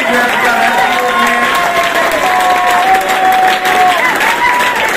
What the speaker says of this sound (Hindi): और उनके लिए जो बैठे हैं तालियां बजा रहे हैं